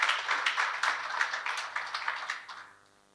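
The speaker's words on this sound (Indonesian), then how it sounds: "Tepuk tangan dulu untuk Tuhan yang luar biasa." A church congregation applauds during a Sunday worship service, a steady wash of many hands clapping at full strength for about two and a half seconds before thinning out and fading away.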